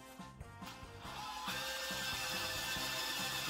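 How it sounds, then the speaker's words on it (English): A power drill whirs steadily at low speed, its motor hum rising slightly as it bites into aluminum, with faint rhythmic mechanical pulsing underneath. "This is not really hard to drill."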